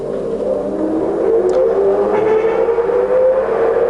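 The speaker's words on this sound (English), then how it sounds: "we'll start the machine up" A Cincinnati 1810 mechanical guillotine shear, rated 10 foot by 1/4 inch, starts up with a rising motor whine and steady hum that swells slowly and holds, close and loud, with no talking.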